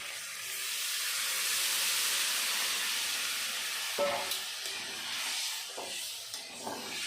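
Water from rinsing a mixer hits a hot pan of spicy egg and potato curry, a loud steady hiss of steam and sizzle that fades to softer bubbling with a few clinks.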